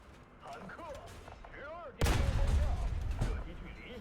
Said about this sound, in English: It's a fairly meaty sounding gun.